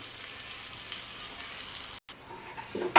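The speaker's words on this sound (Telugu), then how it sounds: "ఇవి బాగా ఆనియన్స్ కొద్దిగా కలర్ చేంజ్ అయ్యేంత వరకు వేయించుకోవాలి ఆనియన్స్" Onions frying in a pan for chicken curry, a soft steady sizzle that cuts out briefly near the end before resuming with a clatter.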